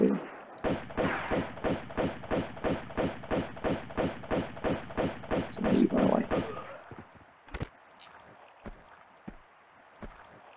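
Underwater shots from a scuba diver enemy in Tomb Raider 2 on the Offshore Rig level: about twenty evenly spaced muffled thumps in a steady rhythm, followed by a few scattered sharp knocks and quieter ambience.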